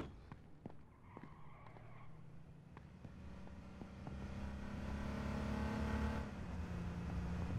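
Engine of a police car in the battle royale game H1Z1 drones low and grows steadily louder as the car approaches, with a few faint clicks and taps over it and no talk.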